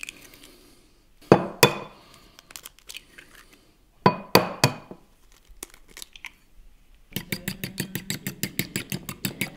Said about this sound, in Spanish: Vamos abriendo los huevos, también los vamos a batir,